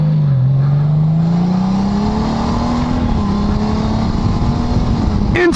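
A 2018 Honda Gold Wing motorcycle in sport mode accelerates hard, a loud close engine drone rising in pitch with quick seamless shifts, wind noise underneath throughout.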